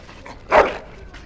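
A dog in the video game Dragon Age: Origins gives one short, close whimpering yelp over faint background sound.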